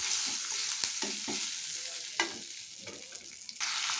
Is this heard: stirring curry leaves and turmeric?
yes